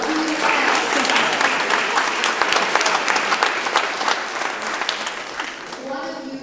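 Audience applause fills a community meeting between a city councilmember and Woodland Hills neighbors, loud and sustained throughout, with a voice starting to speak near the end.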